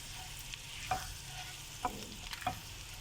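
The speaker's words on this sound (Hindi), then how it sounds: "और इसको सौते करना है। कलर नहीं आने देना लहसुन में," Garlic gently sautéing in a pan on very low heat for a butter garlic and egg omelette, a soft, quiet sizzle broken by three or four light clinks and scrapes of a spoon, with no talking.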